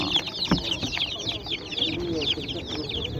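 Kazakh hens and chicks cluck and chirp at a poultry market in Kyzylorda, a busy overlapping chatter of bird calls with a low voice talking briefly underneath.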